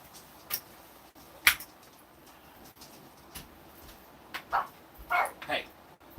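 A dog waiting for its food gives several scattered barks and yips indoors, faint to moderate, with a cluster of sharper yips near the end and no clear talk over them.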